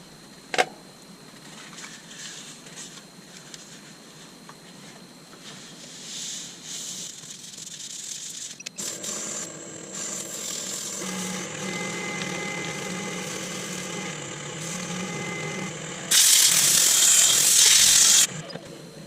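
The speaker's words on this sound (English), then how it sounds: "let's finish it off with some True Grit Superfine" Elm on a woodturning lathe is sanded with True Grit Superfine abrasive, a steady motor drone with a soft rasping hiss that swells into a harsh, loud scratching burst near the end.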